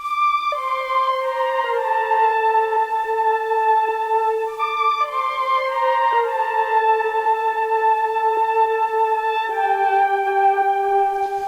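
Sample processed with RC20 magnetic dropout and vinyl static, sustained tonal chords that wobble and briefly drop out, with faint crackly hiss underneath, playing alone.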